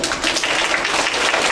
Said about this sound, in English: So give them all a round of applause for coming up here.